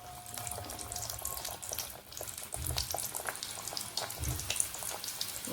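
Potato masala snacks deep-frying in hot oil, a steady close bubbling crackle with bursts of sizzle and occasional clinks, no talking.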